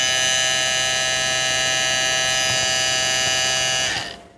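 LILIPRO L4 tattoo machine motor running at 7,500 RPM, a steady high-pitched electric whine and buzz held close and constant for about four seconds before cutting off abruptly.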